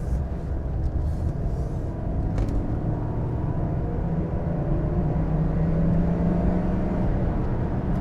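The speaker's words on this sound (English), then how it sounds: "Typical BMW acceleration, nice and smooth." Smooth steady engine drone of a 1999 BMW 323i convertible accelerating on the road, a continuous low rumble with a faintly rising pitch, heard from inside the car and never dropping out.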